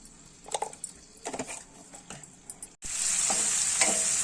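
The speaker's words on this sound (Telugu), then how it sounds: "తర్వాత తాలింపులు వేసుకున్నాం" Cumin and tempering spices hit hot oil with a sudden loud sizzle that keeps crackling steadily, after a few soft clinks and stirring sounds in the pan.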